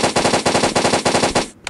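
Rapid automatic gunfire in the Blockpost video game, a loud, evenly spaced burst of about a dozen shots that stops abruptly and is followed by a single trailing click.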